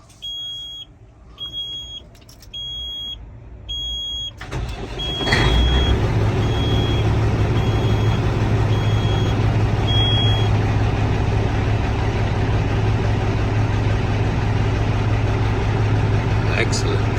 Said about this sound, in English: let's make sure we have some oil pressure as we turn on the truck